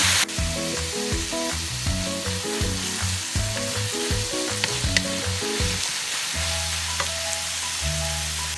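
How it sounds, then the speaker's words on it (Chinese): Shredded beetroot and strips of wheat gluten stir-fried in a wok, a steady loud sizzle with irregular scraping and tossing strokes of the spatula throughout, no voices. "再继续煎炒"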